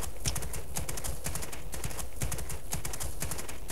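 Rapid, continuous clip-clop of a jumping horse's hooves on a hard surface, dense and steady throughout with a synthetic, game-like quality, from the video game Abenteurer auf dem Reiterhof 2.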